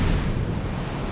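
Naval mine detonating beneath an enemy ship in World of Warships, sinking it during a French destroyer Fantasque match: a loud, sustained, low rumbling blast that fills the whole moment with no voices.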